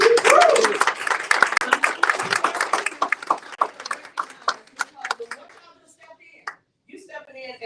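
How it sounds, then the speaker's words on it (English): Audience clapping at a Hall County, Georgia GOP gathering, a dense burst of many hands that thins out into scattered claps and fades over several seconds. "they all need a hand clap"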